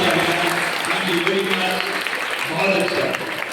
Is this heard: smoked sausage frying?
no